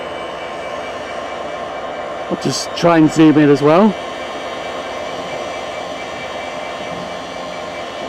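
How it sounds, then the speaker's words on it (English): Class 66 diesel locomotive 66702 idles at Barnetby station in North Lincolnshire, a steady broad engine roar filling the background throughout while someone speaks briefly over it nearby. "There's a 66 in the background, as you can hear blatantly."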